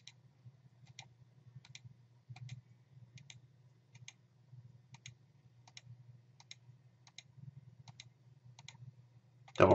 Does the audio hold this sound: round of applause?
no